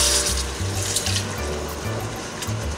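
Broth poured into a pot of tomato soup, a close, steady gushing pour of liquid with a low gurgling pulse, continuous and fairly loud, without speech.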